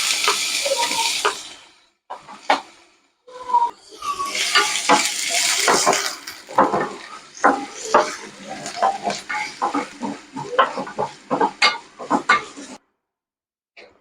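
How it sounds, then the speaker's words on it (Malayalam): Finely chopped ginger and garlic sizzle in sunflower oil, starting with a bright hiss that settles into crackling under scattered clinks and scrapes of a spoon on the pan, heard close. "നമുക്ക് ഇഞ്ചിയും വെളുത്തുള്ളിയും ഇട്ട് കൊടുക്കാം"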